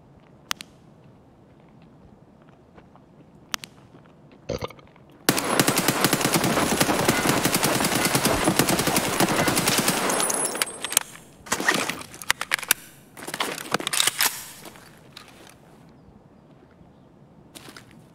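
Gunfire in a squad-based shooter video game: a loud, dense barrage of automatic shots runs for about five seconds, then breaks into several shorter, sharp bursts before fading to quiet, with no talking over it.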